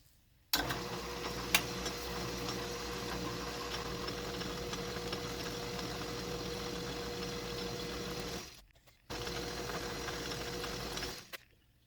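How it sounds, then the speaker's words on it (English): A small lathe facing off the end of a tiny rod gives a steady motor hum with a faint mechanical whir, running continuously. It cuts out briefly and restarts, then stops at the end. "next we're going to face off the end of the little rod, and yes, it is really that small"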